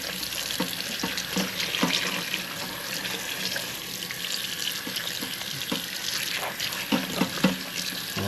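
Salted codfish being rinsed under a running tap, giving a steady, loud splash of water with scattered pattering as the fish is handled, close by.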